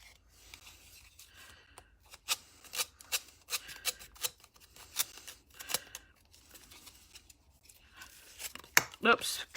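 Sandpaper wrapped around a finger rubbing the edge of a rice paper coaster, a series of short, quiet scratchy strokes in an uneven rhythm, with a voice speaking at times.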